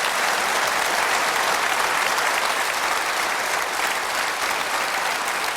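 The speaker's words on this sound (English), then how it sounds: "You're getting a lot of applause for that." Steady, dense audience applause fills a televised political debate studio, many hands clapping evenly at a constant loud level with no talk over it.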